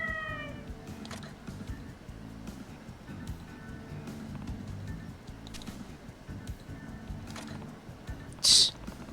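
A lucky cat meows in the video game Like a Dragon: Ishin, one short high meow near the end, fairly clear above quiet game ambience.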